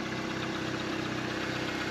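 A used car's engine idling smoothly, a steady, even mechanical hum with a faint regular pulse, close and unchanging, with no voices over it.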